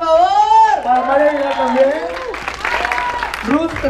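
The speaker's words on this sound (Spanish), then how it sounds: "Un aplauso, por favor" An audience at a web series festival event applauds. A loud voice speaks over the clapping, and the crowd noise rises more clearly near the end.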